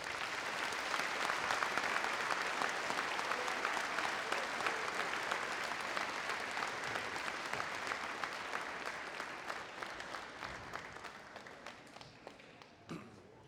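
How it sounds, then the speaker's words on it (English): An audience at a school Veterans Day assembly applauds the veterans, a long, dense round of clapping that holds steady and then gradually thins and fades toward the end. "may we give them a round of applause at this time."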